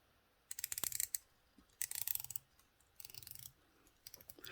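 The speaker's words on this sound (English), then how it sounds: "This has a 120 click unidirectional bezel with a ceramic even bezel insert, and we'll take a listen to that." A dive watch's 120-click unidirectional ceramic bezel turning in four quick bursts of fine, rapid ratcheting clicks, close up and crisp in a quiet room.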